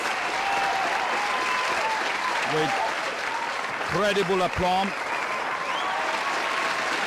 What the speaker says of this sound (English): the applause shows the appreciation for her closing argument